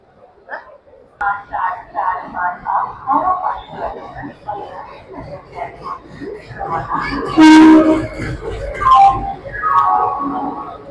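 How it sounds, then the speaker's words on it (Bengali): A Doon Express with LHB coaches is shunted at a station: rumbling movement and a sustained horn blast midway, under a crowded platform's chatter and voices. "চলুন এবার সময় হয়ে গেছে ট্রেনের সান্টিং দেখে নেওয়ার।"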